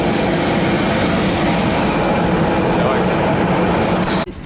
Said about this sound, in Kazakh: Достар, отырдым самолетқа.